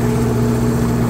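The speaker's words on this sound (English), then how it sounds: "Yeah, you can hear the compressor." A PTO-driven air compressor runs on a 2012 Freightliner crane truck, giving off a steady, loud mechanical drone with no variation.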